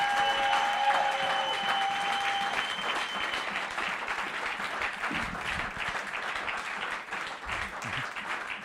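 A church congregation applauding loudly, steady dense clapping and crowd noise sustained throughout, close and full with no pauses.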